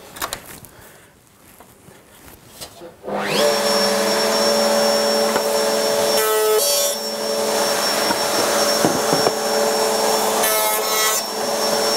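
A circular saw on a Triton WCA201 workcentre plunges into timber for a toolbox: quiet handling, then the motor spins up into a loud, sustained whine with a rough cutting rasp, close and alone.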